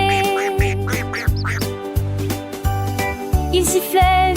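A cartoon duckling call in a children's song sounds as a string of short, nasal quacks in a bouncy rhythm over a steady musical backing.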